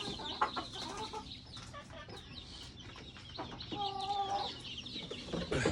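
Chickens and chicks on a small backyard poultry farm cluck and chatter close by, with a busy mix of short calls and one drawn-out squawk midway, faint background noise throughout.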